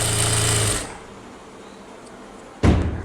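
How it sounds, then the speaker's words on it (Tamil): A sewing machine stitches the side seam of a blouse in a short close burst, stops, then starts another loud run of mechanical clatter near the end. "இப்போ நீங்கள் தைக்க ஆரம்பிக்கலாம்"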